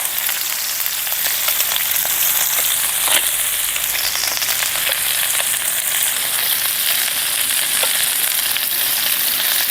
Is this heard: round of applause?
no